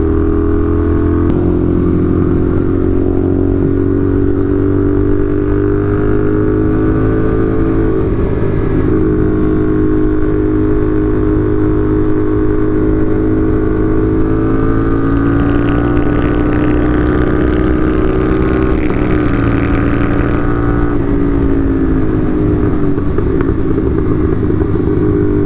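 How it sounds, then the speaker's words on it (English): A CFMOTO 450SR motorcycle engine runs loud and close, holding a steady droning note with rising and falling revs and occasional sharp backfire pops, with no talking. "if we get a good tune, but not get rid of the backfire, the pops, this bike's going to be awesome"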